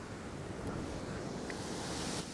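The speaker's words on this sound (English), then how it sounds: "I better get out of the way, some big waves coming." Big ocean waves surge against a rocky shoreline fishing spot near Sydney, a brief, fairly faint wash of surf mixed with gusts of wind buffeting the microphone, with no one speaking.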